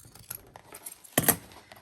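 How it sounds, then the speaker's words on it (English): A single crisp scissor snip through paper cut from a snippet roll, one short burst near the middle of an otherwise quiet moment. "So I am going to cut this right down"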